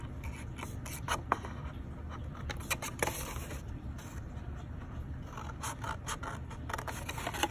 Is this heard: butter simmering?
no